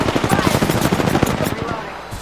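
Rapid automatic gunfire from a firefight in the video game Apex Legends, loud and dense, with shots hammering out in fast continuous bursts for the whole moment and fading slightly toward the end.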